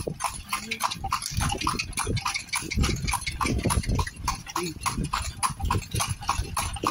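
Horse hooves of a horse-drawn carriage in Vigan clip-clop in a steady trotting rhythm on the street, close and continuous, while people talk over the sound.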